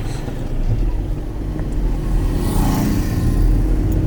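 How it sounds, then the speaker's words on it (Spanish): A car rolls by close at hand, its steady low engine rumble and tire noise filling the scene for several seconds without any talk. "Eche para allá que viene el carro."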